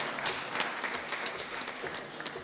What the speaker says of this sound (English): Let's have a little bit of clapping,